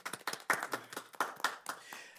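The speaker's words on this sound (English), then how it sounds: "round of applause to you" Sparse clapping from a small audience at a city planning commission meeting, a few close, uneven hand claps sounding alone at moderate volume.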